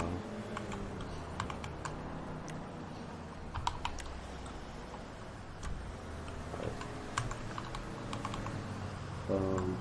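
Keystrokes on a new computer keyboard click away steadily in quick, irregular bursts, fairly quiet and close, with no talking over them.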